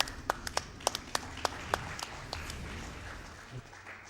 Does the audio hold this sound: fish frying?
no